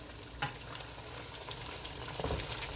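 Pork frying in a pot, a dense, even sizzle close by with a couple of brief crackling pops and no voices.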